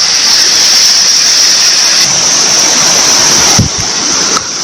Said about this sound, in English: there's this water streaming out from somewhere we're yet to know